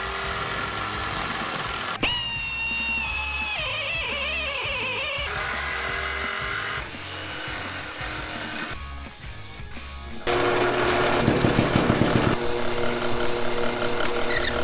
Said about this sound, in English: Bolting both plates together